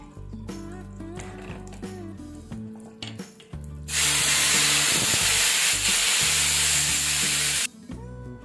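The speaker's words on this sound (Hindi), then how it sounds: "अब हम इसमें लगाएंगे जीरा, साबुत मिर्च और हल्का सा देगी मिर्च का तड़का।" Loud hissing sizzle as cumin, whole chillies and Deggi Mirch chilli powder hit hot oil, bursting in suddenly and holding steady for several seconds over kitchen background sounds.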